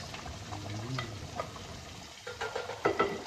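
Garlic and ginger frying in a home kitchen pan, a soft steady sizzle with stirring scrapes and a few clinks toward the end, fairly quiet.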